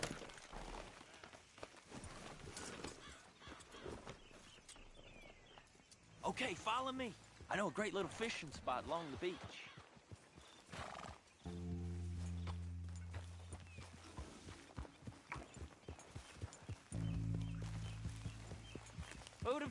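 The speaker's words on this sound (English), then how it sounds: "Grab your horse and let's go." Horse hooves clip-clop at a steady walking pace while riding in Red Dead Redemption, heard under conversation and a musical score.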